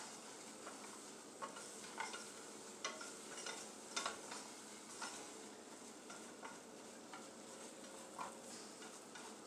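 Steady stirring of a batter or roux in a frying pan for chicken fried steak, with a soft continuous sizzle and repeated light scrapes of the spoon against the pan, close up and alone.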